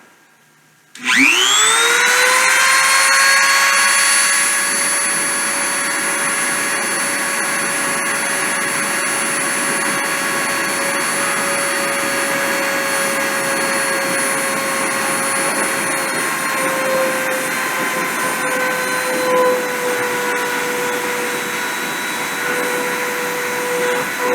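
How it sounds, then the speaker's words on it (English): A CNC machine's spindle spins up from silence into a steady, loud electric whine with sustained high tones, running continuously with no talk. "I'm going to turn the spindle on and start the file."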